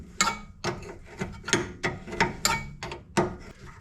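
A spanner works a long bolt on the suspension of a 1972 Mazda RX2, giving about eight close, sharp metallic clicking strokes in an uneven steady rhythm with no talk.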